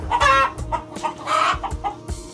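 A small laying hen clucks close up as it is let out on a small farm, a burst of agitated, uneven clucks and squawks in quick succession with no talk over them.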